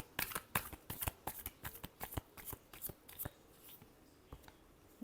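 Tarot cards being shuffled in a quiet room, a series of crisp riffling flicks in an irregular rhythm, close and fairly soft, fading out toward the end.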